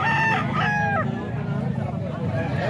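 A Gilmore bloodline gamefowl rooster crows once at close range, its rising and falling call standing out over a low murmur of crowd noise and faint voices.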